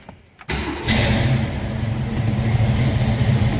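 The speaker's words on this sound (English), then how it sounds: "Let's go ahead and start this up so you can hear how it runs." A 1965 Ford Mustang with a 289 V8 cranks briefly and fires up, settling into a steady, close rumbling idle that runs alone to the end.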